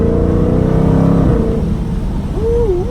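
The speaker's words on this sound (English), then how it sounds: "Let's downshift this thing to, we're going 50. We're going downshift to 3rd gear." A 2019 Dodge Hellcat downshifted to third gear at about 50 mph: the engine roars loudly and close, its pitch sweeping down, then surging back up into a rising, whining rev.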